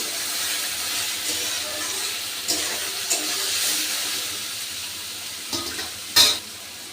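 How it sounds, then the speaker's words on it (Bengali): Water lily stems fry in a pan and are stirred while cooking, a steady close sizzle broken by several short scraping stirs and one sharper knock near the end. "এবার আমি শাপলাটাকে আর একবার নেড়ে নিচ্ছি।"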